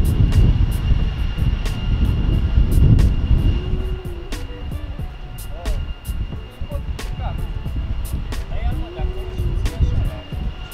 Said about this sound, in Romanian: Aoleu, ce bate vântul!